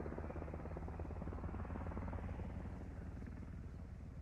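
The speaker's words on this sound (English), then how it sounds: "it looks like the helicopter is now doing a high pass" A helicopter in the video game Squad makes a high pass overhead, its rotor thrumming in a steady, pulsing drone at moderate distance, alone without talk.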